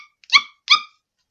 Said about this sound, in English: When the parade of dogs approached the entrance to the city's museum, Antoinette began to yap loudly.